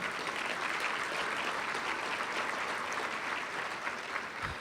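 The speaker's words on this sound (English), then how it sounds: "Give them all a big round of applause" A business committee audience applauds during a governor-elect's keynote speech, a broad, continuous round of clapping at moderate distance with no talk over it.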